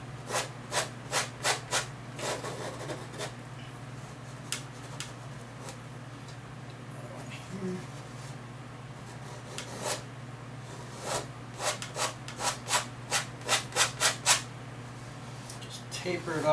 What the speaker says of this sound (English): Scrape the canvas hard because you want this to dig into